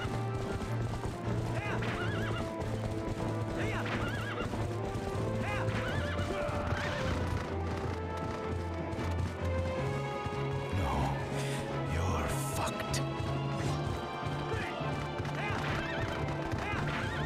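A horse in the video game Twilight Princess neighs loudly and repeatedly over a steady clip-clop of galloping hooves, with occasional crashing impacts and game music underneath.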